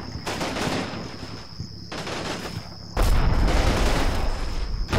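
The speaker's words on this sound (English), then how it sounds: "Yup, those are good mortar strikes." Mortar strikes landing close by in the Combat Mission Red Thunder war game, a dense rolling barrage of blasts and crackling fire that swells louder near the end.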